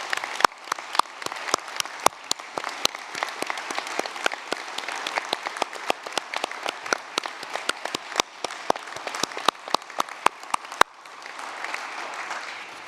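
Graduation ceremony audience at the University of Newcastle, Australia, applauding the graduates: dense, sustained clapping from a large crowd that runs nearly thirteen seconds, thinning slightly toward the end.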